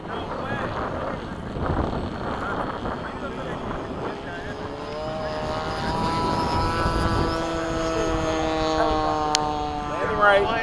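F-5 and F/A-18 jet aircraft flying in formation and landing at Bayside, a loud roaring whine that rises in tone toward the end, with radio voices talking over it.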